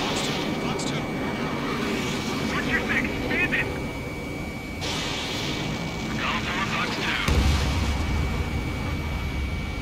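Jet engine roar from an F-16 in the Ace Combat 7 combat flight game, with rumbling explosions and gunfire bursts, and a voice talking over the game sounds.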